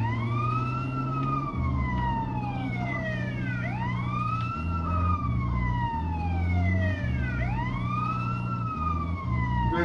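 A wailing ambulance siren from the video game GTA San Andreas sweeps up and down in repeated rising and falling cycles, loud and continuous over a low rumbling vehicle engine.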